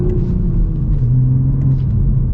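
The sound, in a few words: Toyota GR Supra B58 engine accelerating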